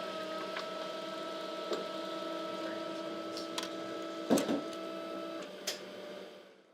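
A printer feeds and prints a design onto coated transfer paper with an adhesive side, a steady mechanical hum and whir with light clicks and a couple of louder clunks near the end, heard close and alone.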